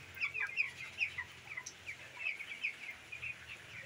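Chickens on a small mini farm clucking in short, repeated bursts, moderately close, with a faint low background hum and no talk.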